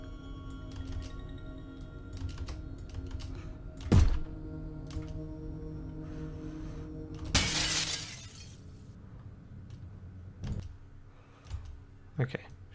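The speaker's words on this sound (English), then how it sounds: "Let's go this way, and then we'll shoot out the window." A window is shot out and shatters in the video game Heat Signature, with a sharp thunk and then a bright burst of breaking glass, among scattered clicks and quieter game sounds; a voice talks between the effects.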